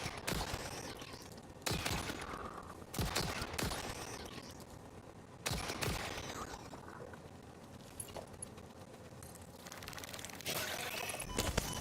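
Repeated bursts of gunfire as a player shoots at creatures, including spiders, inside a factory-building game, loud clustered volleys separated by brief pauses over steady mechanical background noise.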